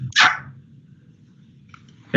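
A dog named Ellie gives one sharp, close bark at the start, then near silence with a faint low rumble, and another bark begins right at the end.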